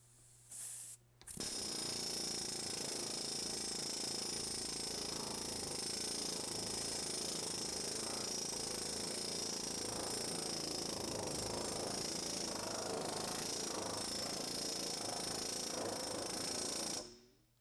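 Air-powered planishing hammer running at moderate air pressure on 0.040-inch aluminum sheet in a shop: a loud, continuous rapid hammering with a hissing edge, starting abruptly after a brief burst and holding steady for about sixteen seconds before cutting off.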